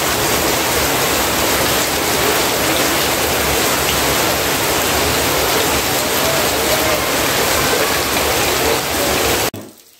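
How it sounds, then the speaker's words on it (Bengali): Heavy rain pouring down outdoors in a dense, steady roar of hiss and patter that fills the whole stretch, loud and close, before cutting off abruptly at the end. "ভালো বৃষ্টি নামছে। এই কদিন যেরকম আসিল, গরম আসিল, আজকে আবার দেখা যায় যে প্রচুর পরিমাণে বৃষ্টি হয়েছে।"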